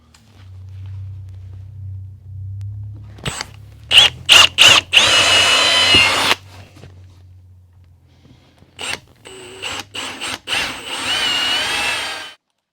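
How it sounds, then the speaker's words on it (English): A power drill bores a pilot hole into wood for a machine screw on a workbench build, heard as two loud whirring bursts with short trigger pulses between them, close to the microphone. "I'm going to drill a hole a little bit smaller than the root diameter of this machine screw"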